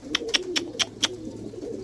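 A pigeon coos nearby in a short run of soft, rhythmic notes against quiet background noise.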